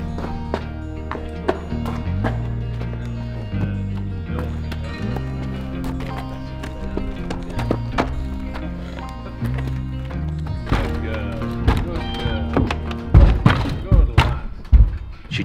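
A mare at a farm steps up into a horse trailer during loading; a few hollow hoof thumps and clunks come near the end, under background music.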